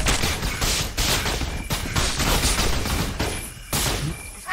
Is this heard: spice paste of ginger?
no